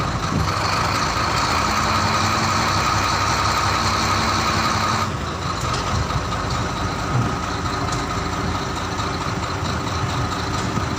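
A wheel loader's diesel engine running as the machine backs up, a loud steady mechanical drone close by with a slight shift in tone partway through, no voices.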